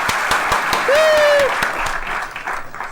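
Audience applause rings out as a dense, steady patter of many hands, loud and close, with a brief whistle-like tone rising over it partway through.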